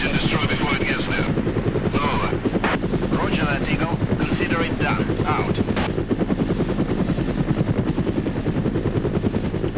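Transport helicopter in the military video game ArmA flies with a loud, steady rotor thump throughout, with gunfire bursts mixed in and voices talking over it.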